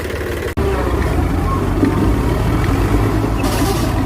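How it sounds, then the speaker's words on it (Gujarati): A tractor engine labours hard in four-wheel drive, its steady low drone running loud and continuous for about four seconds apart from one brief drop near the start. "હવે આપણે છેલ્લી તાકાત લગાવી જોઈએ, પૂરેપૂરી 4x4, પણ ટ્રેક્ટર માનતું નથી."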